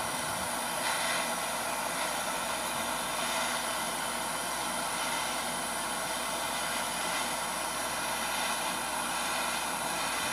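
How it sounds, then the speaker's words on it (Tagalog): A strong torch flame heating a glass tube straw, a constant roaring hiss that stays loud and even the whole time, with no talk. "Ang lakas ng torch ko"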